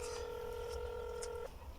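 A telephone keypad gives off a steady, clear electronic tone for about a second and a half, then cuts off abruptly. A faint room hum continues afterward.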